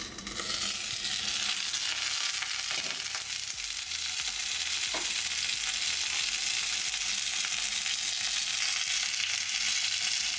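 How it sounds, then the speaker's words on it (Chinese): Potstickers made from hot-water dough crackle and sizzle in oil inside a covered pan, a steady, busy frying sound with no voices over it. "锅里的水分蒸发，油开始滋滋滋的叫了"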